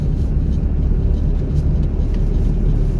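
A car engine pulls uphill in third gear, a loud, steady low rumble with constant road and engine noise throughout and no talking.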